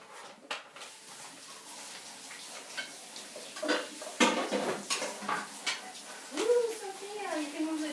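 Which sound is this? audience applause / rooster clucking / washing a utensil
washing a utensil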